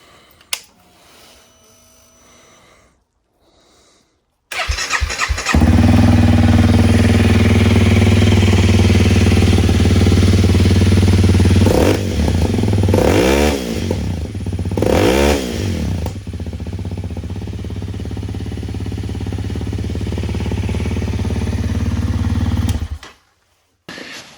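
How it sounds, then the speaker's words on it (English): A rebuilt rally motorcycle engine fires up for the first time after a rebuild, catching abruptly and then running loud and steady with a couple of rising revs before cutting off near the end. "here we go, running it for the very first time."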